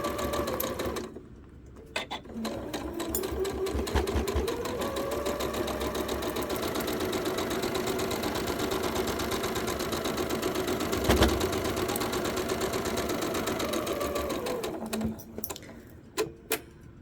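A sewing machine stitches quilt blocks together in a fast, steady whirring run of about twelve seconds, with short bursts and small clicks before and after, fairly quiet and close with no talking.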